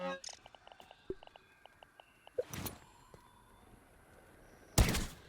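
A heavy cannon-like weapon fires twice in the survival video game Grounded, two loud booming blasts a couple of seconds apart over faint game clicks and beeps.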